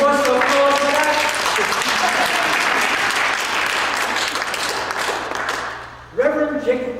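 An audience at a storytelling event bursts into loud, dense applause that holds for several seconds, then thins and fades before a voice comes in over the tail.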